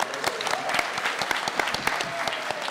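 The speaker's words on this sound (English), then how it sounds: "we can all clap" A comic-con game show audience claps together in a steady, brisk burst of applause that fills the room at an even level.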